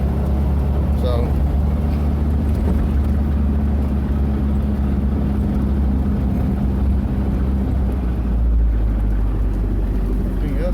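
A 1979 Triumph Spitfire engine idles steadily with a low, constant rumble and a loud, close exhaust drone, with no other sounds over it.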